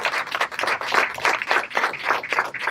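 A small crowd at a press conference and ribbon cutting claps briefly, with a patter of uneven hand claps rising and falling for a few seconds.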